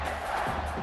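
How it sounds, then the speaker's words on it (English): Stadium crowd chanting in College Football 26 at a Nebraska versus Northwestern game, a broad, sustained roar of many voices heard only for a moment. "that crowd chants "Go Big Red.""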